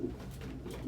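A homing pigeon gives a soft, brief low coo, faint and close, with no other sounds around it.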